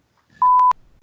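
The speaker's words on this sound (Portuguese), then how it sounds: "Vou botar um bip." A single steady censor beep, a clean electronic tone lasting about a third of a second, sounds loud and alone against near silence.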